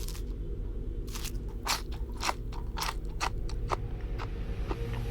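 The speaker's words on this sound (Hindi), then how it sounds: "हसीना ने अपनी आंखें बंद की और धतूरे की सीट को चबाते हुए बाहर ही बैठ गई" Crunchy datura seeds are chewed in a run of sharp, close crunches and cracks over a steady low background, with no voices.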